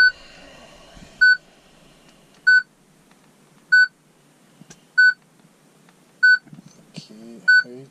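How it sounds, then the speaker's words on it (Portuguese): A Citroën/Peugeot car radio gives short, sharp electronic beeps at a steady interval of about one per second, loud and close, with faint voice fragments between. "Que bip insuportável."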